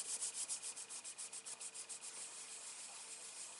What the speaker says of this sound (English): Give it a good rub down.